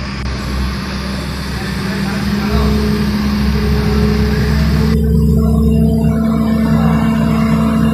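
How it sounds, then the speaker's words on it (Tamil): A JCB telehandler's stabilizer is hydraulically raised: a loud, steady engine and hydraulic drone runs throughout with a faint whine, and the high hiss cuts off partway through while the engine keeps running. "அடுத்தது ஸ்டெபிளைசர் இப்போ அப் பண்ண போகிறோம்."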